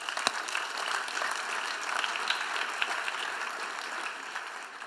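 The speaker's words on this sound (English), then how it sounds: "Let's give them a big round of applause, please." A conference audience at a travel-industry event applauds, with steady, dense clapping from many hands filling the room at a close, even level for the whole stretch, with no voices over it.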